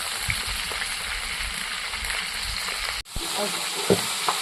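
Dal being tempered with spices in hot oil, a steady close sizzle and frying hiss running throughout, briefly cut off near the middle, with light stirring clinks.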